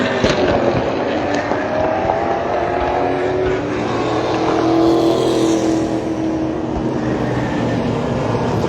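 Late model race cars circle a Shasta Speedway oval on warm-up laps, a dense, steady roar of several engines close by, with a swell of cars passing midway and no voices.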